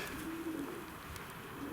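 Racing pigeons coo softly nearby, a low rolling warble repeated over a quiet background hum.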